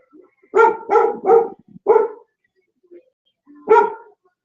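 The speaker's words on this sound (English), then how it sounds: "She's probably barking at like somebody walking by." A dog barks in a burst of three quick barks, then a fourth after a pause, and one more a moment later, loud and close indoors at home with no talk over it.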